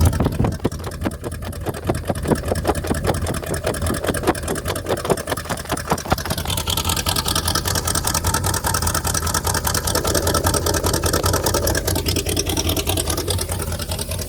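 A loud, throaty 1978 Ford F-150 pickup engine rumbles close by with rapid, pulsing exhaust, idling roughly and then settling into a steadier deep drone.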